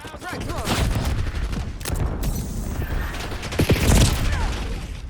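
In a first-person shooter, a thrown frag grenade bursts amid rapid gunfire and clattering mechanical sounds, with a sharp loud boom near the end over continuous battle noise and brief voice callouts.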